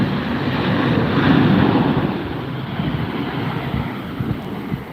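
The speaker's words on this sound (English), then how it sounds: "Gusting winds gusting 40, 45 miles an hour" Strong wind gusting at 40 to 45 miles an hour buffets the microphone at Las Vegas International Airport, a loud, surging roar with a low rumble that rises and falls.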